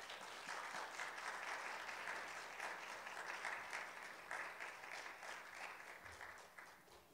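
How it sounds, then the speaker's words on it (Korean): A church congregation at a Sunday service gives a warm round of applause to welcome the pastor, a dense, even patter of many hands that carries on for several seconds before slowly thinning and tapering off. "우리 목사님 나오실 때 환영의 박수로 함께 목사님 맞이하도록 하겠습니다"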